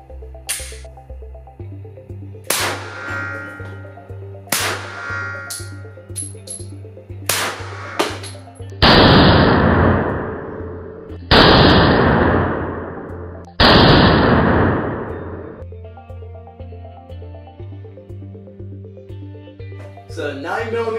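.45 ACP rounds strike a kids' IIIA bulletproof front panel in a series of sharp, loud reports a few seconds apart, the later shots trailing long hissing tails.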